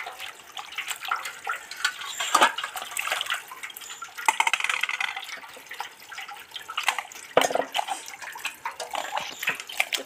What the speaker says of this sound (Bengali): মাংস একটু পরিষ্কার পরিচ্ছন্ন করে ধুতে হয়